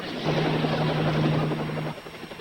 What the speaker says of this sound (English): A helicopter coming out of the east in the rising sun.